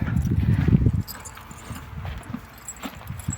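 Hooves of a mare clop heavily and close at first, then a few lighter, scattered steps follow more quietly.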